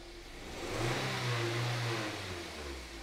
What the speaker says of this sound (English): Hopefully you can hear that kind of stumbling and missing. If I just rev it up